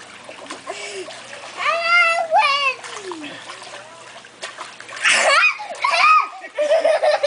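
A dog swims and splashes in water at close range, with a few loud splashing bursts while children's voices and giggles carry over it.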